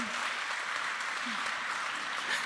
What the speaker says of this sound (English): give a warm clapping just to welcome her